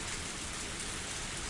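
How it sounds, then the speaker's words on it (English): Steady heavy rain pours down in the game Higurashi When They Cry, a dense continuous hiss of a downpour drumming on surfaces, even and unbroken throughout with no voices. "And you went to get it in this downpour?"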